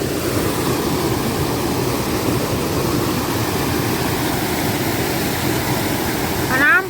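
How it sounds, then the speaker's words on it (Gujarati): Floodwater gushing through a breach after heavy rain in a village, a loud, continuous low roar of rushing water up close, with a brief higher sweep right at the end. "અને ગોઠાણથી પાણી ફૂટી ગયું છે."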